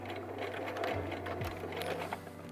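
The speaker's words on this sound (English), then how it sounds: "We're gonna do a quick zigzag stitch to secure our leg hole elastic." A sewing machine runs a quick zigzag stitch to secure leg hole elastic on a swimsuit, with a steady close mechanical whir and a couple of pitch dips as the speed changes, no talk.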